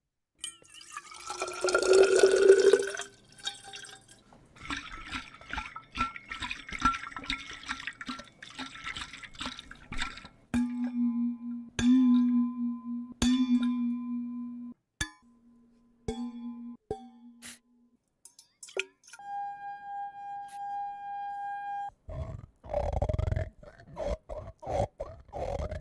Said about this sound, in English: We wanted a water and metal blending, and here is the result.